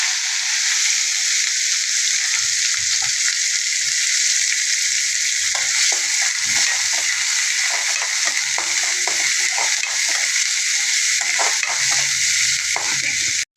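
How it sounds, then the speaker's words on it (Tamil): Onions hit hot oil where mustard seeds have already spluttered, and a loud continuous sizzle fills the pan, with scattered crackles and pops and occasional spoon scrapes throughout. "எண்ணெய் விட்டு நம்ம கடுகு போடுறோம். பொரிஞ்சிச்சு. நான் வெங்காயம் போடுறேன்."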